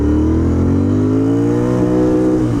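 A Royal Enfield Interceptor 650 motorcycle engine drones steadily at high revs, its pitch rising slightly and holding, loud and close, with no talking.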